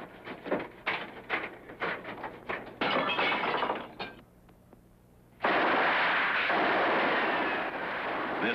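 Gunfire in a 1950s crime-film shootout between agents and gangsters, with a quick run of sharp shots and bursts in the first seconds, then a brief lull and a sustained loud roar of firing to the end.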